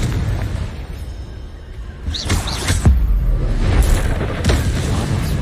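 Confringo fire spells blasting during combat in Hogwarts Legacy, a series of booms and bursts over a continuous rumble, with brief game voice lines in the mix.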